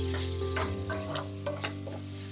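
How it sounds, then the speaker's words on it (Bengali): Carrots frying lightly with sugar in a pan, a steady close sizzle with a low hum beneath and a few scraping stirs at intervals, no voices. "এরপর গাজরটাকেও আমাদের হালকা করে ভেজে নিতে হবে"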